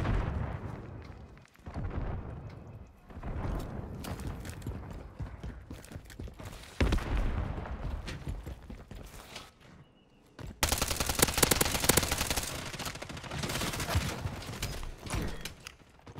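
Dense, continuous rapid gunfire from a video game fills the whole stretch, loud bursts of automatic fire that pause briefly and then resume even harder.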